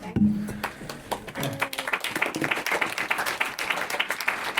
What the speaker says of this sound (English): So much applause.